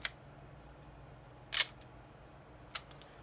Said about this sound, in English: you could start to hear the mechanism in the camera working at a slower shutter speed